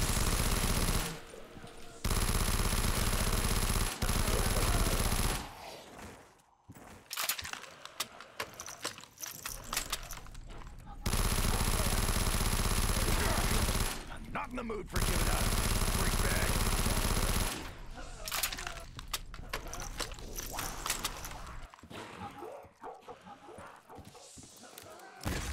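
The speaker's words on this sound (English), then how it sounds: "I just headshotted that zombie with the ray gun" A ray gun fires at zombies in Call of Duty zombies on the Kings Manor map: dense, rapid bursts of loud gunfire in long stretches, broken by a few sudden short silences.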